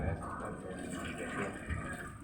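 Water poured over a body during ritual washing of the dead, a soft, continuous splashing and trickling that stays low and steady throughout.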